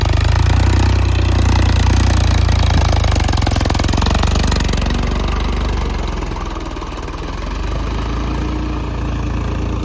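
A new Swaraj tractor with a replaced silencer, about 2594 cc and 37-38 HP, runs steadily nearby with a continuous low diesel throb and rattle that eases slightly midway before picking back up.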